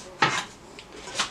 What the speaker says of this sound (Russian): Берем вот такую вот кастрюльку эмалированную.